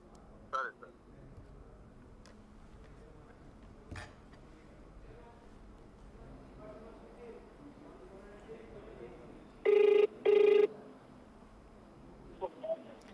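Two long, even ringback tones sound back to back during an outgoing phone call, loud and clear above a quiet room hum with faint background talk and a few clicks.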